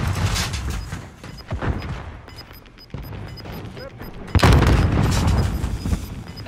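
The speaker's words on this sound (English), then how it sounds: "That C4 didn't hit anything." C4 detonations and gunfire in a shooter game, heard as several deep booms among scattered shots, with one heavy blast near the end and a quieter stretch in between, under some voice chat.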